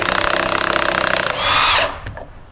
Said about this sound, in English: I can go ahead and take the nuts off the end here.